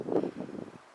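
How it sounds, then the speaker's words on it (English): A short, soft gust of wind rumbling against the microphone, low and muffled, fading out after under a second. "Kind of windy, but okay"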